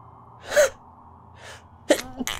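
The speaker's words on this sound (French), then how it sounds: "ça m'a pris d'un coup, là, j'ai eu envie d'éternuer" A single person sneezes sharply, with a brief intake before and gasping breaths after, close and clear against near silence.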